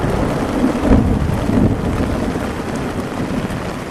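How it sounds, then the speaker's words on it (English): A low rumble of thunder rolls beneath dense, steady rain pelting down and gusting wind in the wilderness, loud and close throughout. "There's another thunder rolling coming in."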